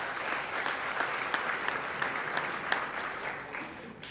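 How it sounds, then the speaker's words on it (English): An audience at the 2015 Elmhurst Exemplary Youth Service Awards ceremony claps steadily for an absent honoree, a dense, even wash of applause from a large indoor crowd that holds for about four seconds, then begins to thin at the very end. "She gets applause anyway"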